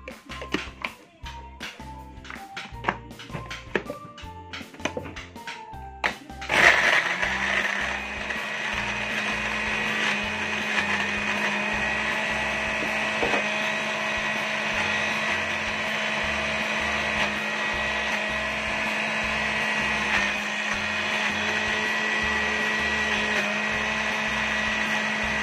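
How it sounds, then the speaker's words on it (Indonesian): A kitchen blender grinds candlenut, rice and oil into a spice paste for beef soto. It runs loud and steady after a few seconds of rhythmic clatter, with a continuous whirring roar that goes on to the end. "Ini masih dikasih minyak biar bisa di blender ya."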